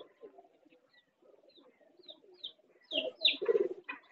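A pigeon, an older flying bird, gives soft close cooing calls with small chirps, quiet at first and then a louder burst of several coos near the end, with no voices.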